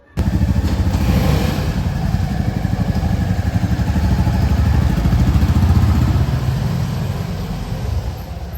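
Motorcycle on a long-distance road ride from Pune toward Ujjain, a constant close engine drone with rushing wind and road noise that starts abruptly and runs evenly throughout.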